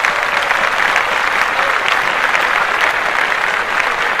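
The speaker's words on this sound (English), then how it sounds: "Let's clap that up." A studio audience at a podcast taping claps steadily and densely for about four seconds, loud and even, with no voices over it.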